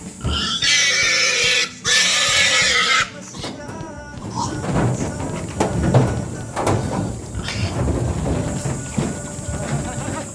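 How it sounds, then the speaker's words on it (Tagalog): Farm pigs grunting and squealing close by, with loud sustained squeals early on and then shuffling, thumping and grunts, while people talk nearby. "apat na baboy sa taas galing"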